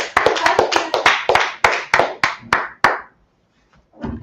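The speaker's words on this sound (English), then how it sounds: "Clap it up. Clap it up for the class." A small group of people clap in a fast, irregular burst of sharp hand claps, close and loud, tapering off after about three seconds before a brief faint sound.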